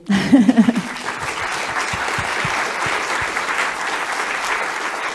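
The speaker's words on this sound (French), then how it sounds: "Je pense qu'on peut les applaudir." An audience applauds after a talk, broad sustained clapping from many people that swells quickly and holds steady, with a brief voice heard at the very start.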